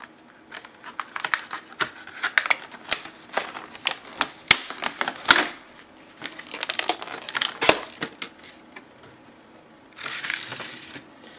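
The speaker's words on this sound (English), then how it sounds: "I'm just going to use some scissors, go around the edge here" Close, crisp snips of scissors cutting open the plastic packaging of a Gerber Icon knife come in quick irregular bursts with crinkling, pausing briefly, then a final rustling stretch.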